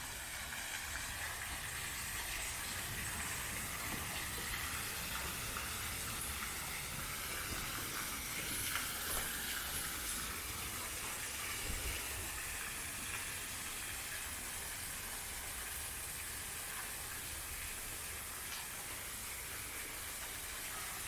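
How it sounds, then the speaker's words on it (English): Water rushes over the falls at Shadow Falls Park in St. Paul, Minnesota, in a steady, broadband hiss that heard from a short distance stays constant throughout. "we got the falls just there. They seem to be running about the same, but it sounds a little louder"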